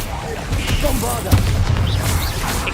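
Hogwarts Legacy combat with a Bombarda explosion spell booming amid rumbling spell effects while a voice calls out over the action.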